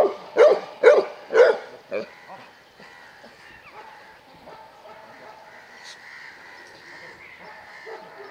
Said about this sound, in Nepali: डग क्यास्परले ह्यान्डलरलाई पम्प गर्दै आत्तिएर ह्यान्डलर बिरामी भएको भन्ने इसारा गर्दै कराउँदै अरूसँग सहयोगको अपेक्षा गर्दैछ